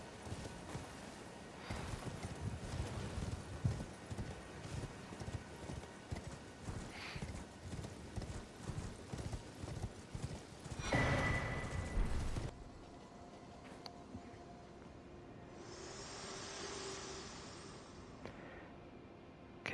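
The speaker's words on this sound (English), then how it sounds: "You can still use your horse for this bit, which I would recommend, just for a bit of speed" Hooves of the spectral steed Torrent galloping in Elden Ring, a rapid rhythmic clip-clop that runs for about twelve seconds before giving way to quieter game ambience.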